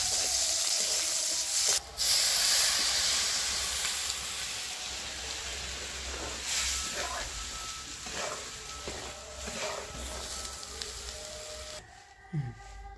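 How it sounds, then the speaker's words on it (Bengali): Eggplant fries in a pan with a continuous, moderately loud hiss and crackle that fades slightly over time, broken by a few louder spits and a brief clatter near the end. "বেগুনটি ভাজা করে হইতেছে"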